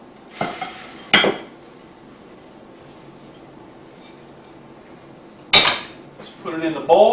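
Freshly popped old-fashioned popcorn poured from a metal pot into a bowl, with two sharp clattering scrapes early and a louder rattling pour near the end, separated by quiet.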